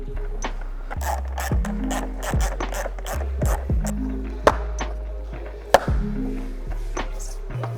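Tool work removing the license plate and old plate mount from a Ford Ranger Raptor: a series of short, loud mechanical whirring and rattling bursts with sharp clicks between them, close by and with no talking.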